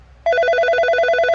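A telephone rings loudly and close, a steady electronic trill pulsing rapidly after a short quiet start, with no voices.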